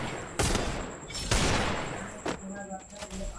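Gunfire in the battle game Free Fire, several sharp bursts of shots with two loud volleys early and a later crack over continuous game noise, with a voice talking underneath.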